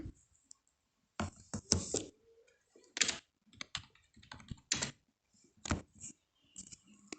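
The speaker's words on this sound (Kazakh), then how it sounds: "Ол үшін мына жерге мен мысалға текстті жазайын." Text being typed on a computer keyboard: irregular bursts of close, crisp key clicks separated by short pauses, with no talking.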